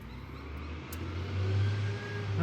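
A truck engine passes on a road, rising in loudness over about two seconds as it approaches, a steady mid-pitched rumble with no talk.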